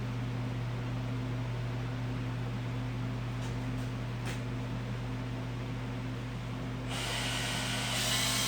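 A steady high-pitched power drill whine runs throughout over a constant low hum, with a few brief clicks and a brighter surge near the end, as plastic parts are prepped for paint.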